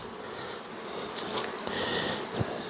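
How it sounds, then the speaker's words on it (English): Bees buzz around a nuc hive in an apiary, a steady insect drone with a high whine running throughout, fairly close and continuous, with no voices. "Look at these bees"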